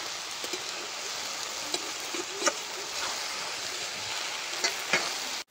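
Water lily stems stir-frying in a pan, with a steady close sizzle of hot oil and a few light scrapes and taps as the stems are stirred, no voices.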